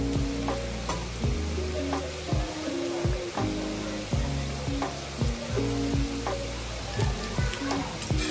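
Sweet bitter gourd (karela) fries on high flame with a continuous close sizzle, broken by repeated clinks and scrapes of a spatula stirring the pan, with no talking.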